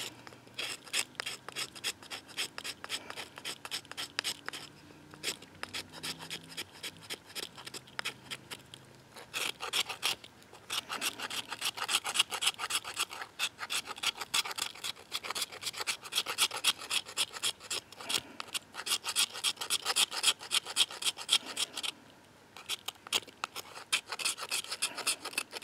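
The 90-degree spine of a knife scraping fatwood into a pile of dust, a rapid rhythmic rasping of close, quick strokes repeated steadily with a few short breaks, and no talking.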